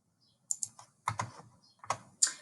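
Computer keyboard keys pressed while entering student registration data, a quick run of crisp clicks in small clusters, close and fairly quiet with no talking.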